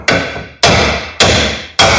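A hammer whacks a seized wheel bearing hub on a 2013 Nissan Titan, four loud, ringing metallic strikes at a steady rhythm, each decaying quickly and heard close up with no talk.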